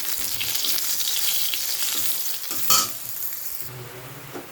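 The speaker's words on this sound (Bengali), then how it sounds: "রসুনটা একটু লাল করে ভাজা করে নিই" Garlic frying in hot oil with cumin seeds gives a steady close sizzle with occasional stirring scrapes and one sharper clatter, and no one speaks.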